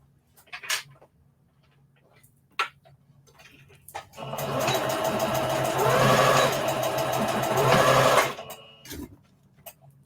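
A sewing machine stitches fabric for an Easter bunny treat bag in one steady run of about four seconds, preceded and followed by quiet handling clicks.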